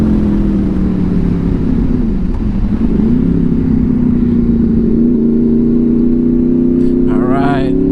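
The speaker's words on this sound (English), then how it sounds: "Just had to get out today on my VFR800." Honda VFR800 motorcycle engine droning steadily while riding, a sustained mid-pitched note that dips and rises slightly, with wind noise throughout and a brief voice-like burst near the end.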